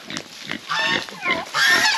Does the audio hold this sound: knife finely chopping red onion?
no